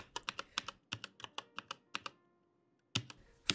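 Keys on a computer keyboard tapped in a quick, close run of distinct clicks, a brief pause, then a couple more presses as a network address is entered.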